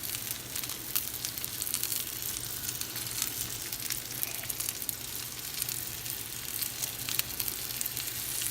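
A ribeye steak sizzles in a hot pan just after being flipped during a reverse sear, with a steady, crackling hiss that carries on without a break.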